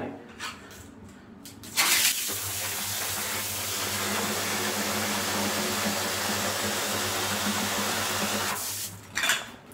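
Ice water is poured into a bucket in one long, steady splashing rush lasting about seven seconds, loud and close, with a low hum running beneath it and brief handling noises before and after.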